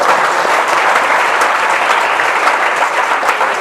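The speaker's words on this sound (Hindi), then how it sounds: "एक बार जोरदार ताली होनी चाहिए बच्चे के लिए" A packed room bursts into loud, steady applause for a student who has qualified for the NDA, dense clapping from many hands carrying on without a break and with no voices above it.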